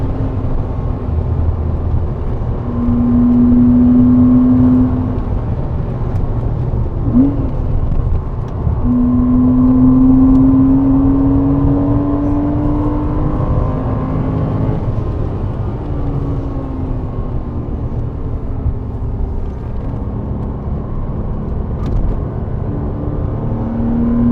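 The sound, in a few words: Porsche Cayman engine at full throttle on Goodwood track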